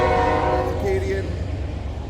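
A train horn blares in a long, steady tone over rumbling traffic near a car show in Strasbourg, loud and close, then fades into the background noise.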